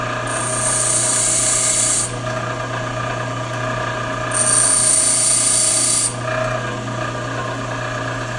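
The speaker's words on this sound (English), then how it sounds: "Grinding is not one of the fastest operations in the world." A lathe tool bit is pressed against a spinning bench grinding wheel in two long, steady rasping passes, each lasting a few seconds, over the constant hum of the running grinder motor.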